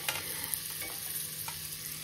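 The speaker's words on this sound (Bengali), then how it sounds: "বাটারের মধ্যে দিয়ে দেবো রসুন কুচো আর আদা কুচো" Chopped garlic and ginger fry in butter in a home kitchen pan, a soft steady sizzle with a few light stirring clicks.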